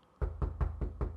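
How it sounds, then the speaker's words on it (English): Someone raps on a door with five evenly spaced, solid knocks, close and clear against a quiet background with nobody speaking. "There's a knock at the door."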